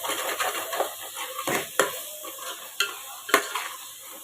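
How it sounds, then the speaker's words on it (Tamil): Chicken biryani gravy masala with mint leaves sizzles gently in a pan while a spoon stirs it, with soft frying hiss and a few sharp clinks of utensil against metal. "இப்போது இது எல்லாத்தையும் சேர்த்து நல்லா வதக்கி விட்டுக்கோங்க"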